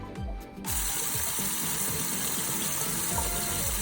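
Kitchen tap running hard into a sink to wash raw chicken, a steady close splashing rush that starts abruptly after a brief quieter moment and continues evenly, with faint clunking underneath.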